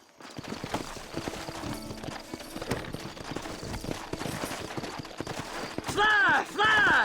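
Hooves clip-clop at a gallop in a Western video game setting, rhythmic thuds mixed with game sound effects and a horse whinnying loudly near the end.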